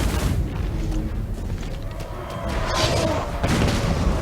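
Artillery gunfire booms in a Total War: Warhammer II fantasy battle, dense continuous blasts and rumbling explosions filling the mix, with some voice chatter beneath the barrage.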